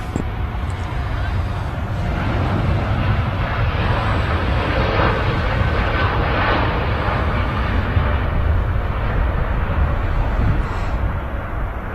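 Boeing 787 Dreamliner on its takeoff roll at Manchester Airport, giving a sustained, heavy jet engine roar that stays loud and steady, with a voice talking over it at times.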